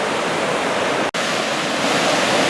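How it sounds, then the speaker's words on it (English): The waterfall at Ohiopyle rushes in a constant broadband roar, loud and steady, with a single abrupt dropout partway through and no voices. "there's the waterfall down there"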